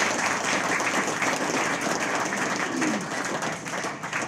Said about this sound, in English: can I please have another round of applause for our country award?